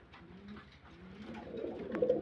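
Toy lahori pigeons coo softly nearby in a low, murmuring call that grows a little louder toward the end, with no talking.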